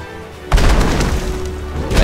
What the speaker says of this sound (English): I guess by making a gigantic explosion, that's how.